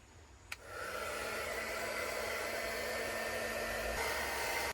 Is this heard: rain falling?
no